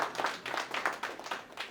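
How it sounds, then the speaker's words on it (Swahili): A crowd at a polio vaccination campaign launch in Singida municipality claps for the health experts, giving a brief burst of fairly rhythmic, moderately close hand clapping. "Na watu wapigie makofi wataalamu."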